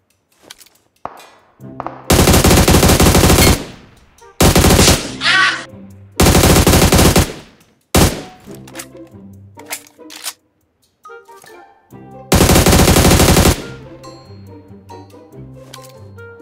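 Machine gun fire in PUBG Mobile: five loud, close bursts of rapid automatic shots, each lasting about a second, with quieter game clicks and thuds filling the gaps between them.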